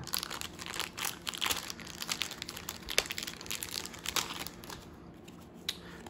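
A Star Wars Legion upgrade card foil pack is torn open and crumpled, with continuous close crinkling and rustling, a few sharper tearing bursts, and a softer pause near the end.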